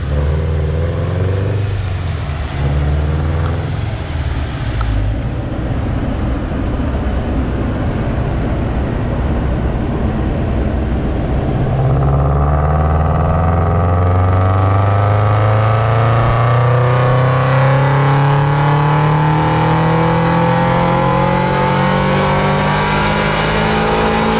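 Boosted Scion FR-S engine on a dyno, a loud rumbling idle that builds into a hard, rising rev as the car pulls through the gears, engine roar dominating to the end.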